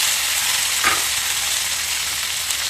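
Green chilies, curry leaves and dried red chilies frying in hot oil for pulihora, a steady close, loud sizzle that holds throughout with a brief stir near the start.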